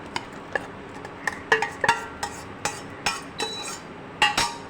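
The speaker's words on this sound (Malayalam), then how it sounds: "വേവിച്ച് വച്ചിരിക്കുന്ന ചവ്വരി നമുക്കതിലേക്ക് ചേർത്ത് കൊടുക്കാം." Cooked sago added to thickened milk for payasam, with a series of sharp spoon clinks against a metal pan at irregular intervals, close and clear, with no talking.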